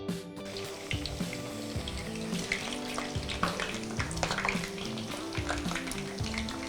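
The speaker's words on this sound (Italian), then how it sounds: "e possiamo friggerle" Eggplant slices frying in oil for a Sicilian pasta alla Norma, a steady crackling sizzle throughout with faint clinks and pan noises, while music plays steadily underneath.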